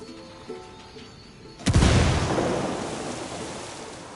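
A video-game frag grenade goes off with a sudden loud boom after a short quiet stretch, its rumbling blast decaying slowly over several seconds.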